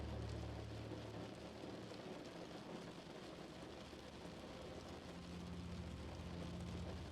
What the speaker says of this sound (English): you only attend to the sound of the rain in helping you